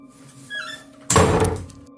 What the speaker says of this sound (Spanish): En ese momento la puerta del cuarto se cerró de golpe.